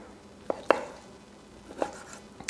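Knife cutting through cooked chicken shawarma on a board, with a few sharp, separate chops and thuds spaced irregularly, close and fairly quiet, with no talk.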